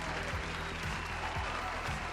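A dense, steady burst of applause, many hands clapping together continuously from start to finish.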